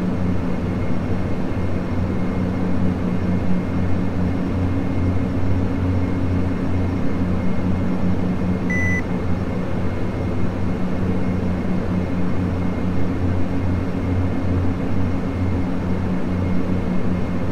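Cessna 207 engine drones in flight from inside the cabin, a loud steady hum with constant low tones that runs without a break and no voices.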